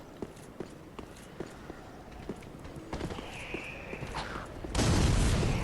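Fire bombs burst in Dark Souls III on the High Wall of Lothric, a loud whooshing blast near the end following a run of scattered thuds and footsteps through the game scene.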